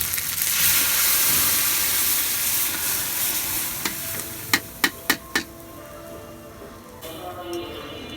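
A hot tempering of fried onion, garlic, green chili, ginger and garlic paste is stirred into dal, with a fading sizzle followed by a few sharp utensil taps against the pan.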